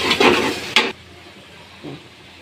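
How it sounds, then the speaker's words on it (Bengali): Turmeric is stirred into spices frying in a pan, giving a loud scraping, sizzling burst for about a second, then a quieter sizzle and one brief soft stir near the end. "প্রথমে আমি 1 চামচ হলুদ দিচ্ছি, দিয়ে একটু লাড়তেছি।"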